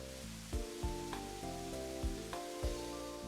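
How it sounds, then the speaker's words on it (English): Water from a ceiling sprinkler system pours down in the Ever17 video game, a soft, steady patter under layered music, with several brief splashy accents spaced through the passage. "Massive amounts of water rained down from the ceiling."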